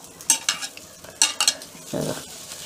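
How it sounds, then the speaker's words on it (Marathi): Okra being stirred and tossed on a hot tava, with a spatula scraping in quick bursts over a light sizzle and a lower, longer scraping stroke near the end; no voices. "आता तवा तापला आहे, एक 5 मिनटं भाजून घ्यायची त्याला, असं इकडून तिकडून परतून घ्यायची"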